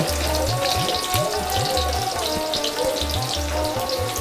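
A blended paste of onion, garlic, chili, ginger and nuts fries in a pan for a broiler chicken bhuna, bubbling and spattering in a steady, close sizzle with rhythmic low plops.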